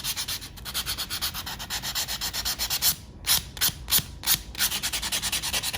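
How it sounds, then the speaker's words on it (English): A nail buffer rubs briskly back and forth across a fingernail, a close, rhythmic scratchy swishing of quick regular strokes with a brief pause partway through. "So just buff that line down and buff out that"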